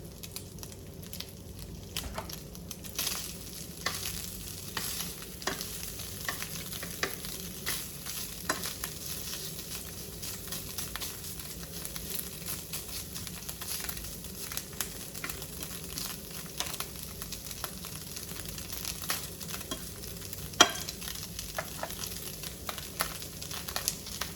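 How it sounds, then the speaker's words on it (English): Pork carnitas frying and crisping in a hot pan, a continuous soft sizzle with light crackles and pops, close and steady without talk. "We just want to heat the meat up and crisp the sides on it so you get some little brown spots."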